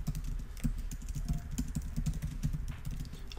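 A computer keyboard being typed on to enter a Packer build command in a terminal, with a steady run of quick, close key clicks throughout.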